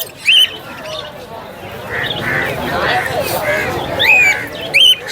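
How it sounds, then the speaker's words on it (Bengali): Budgerigars chirp in quick bursts at a busy pet market in Naihati, sharp high calls standing out at the start and near the end over a background of people chattering. "আর এইগুলো সব বদ্রি বদ্রি হবে"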